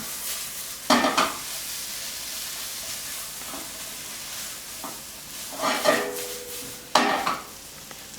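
Quesadilla filling sizzles and fries in a hot pan with a soft, steady hiss, broken by a few louder bursts of stirring and scraping against the pan.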